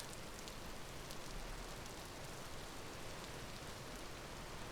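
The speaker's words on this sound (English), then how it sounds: "It's raining out." Rain falling in the survival video game Vintage Story, a soft, steady hiss of downpour with occasional faint drop patter, continuous and fairly quiet with no one speaking.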